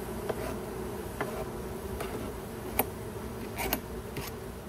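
Honey bees hum steadily around a beehive, a close, continuous drone with occasional louder buzzes as single bees pass, plus faint ticks and knocks.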